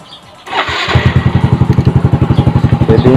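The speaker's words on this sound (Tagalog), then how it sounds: "pinaandar yung motor," A motorcycle engine cranks and catches, then settles into a loud, steady, close idle with a regular pulsing beat.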